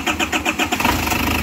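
An Isuzu Trooper's 4JX1 diesel engine, just overhauled, cranks in loud rapid pulses for about a second and then catches into a steady running rumble, with no voices over it.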